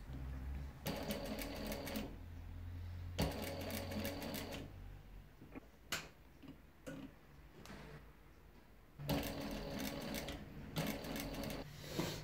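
A sewing machine stitches down the folded edges of a fabric WW2 combat medic armband, its rapid mechanical clatter running in bursts separated by quiet pauses and faint handling noises, close and clear.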